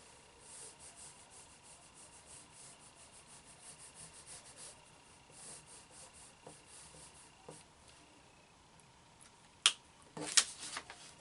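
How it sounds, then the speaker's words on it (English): A red crayon rubs across paper while drawing leaves, a faint, close scratchy scribbling in soft repeated strokes, ending with a few louder sharp knocks, with no voices. "So I'm going to start with my red crayon. And I'm going to make some red leaves."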